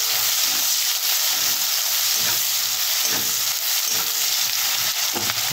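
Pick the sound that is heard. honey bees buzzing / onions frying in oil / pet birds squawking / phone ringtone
onions frying in oil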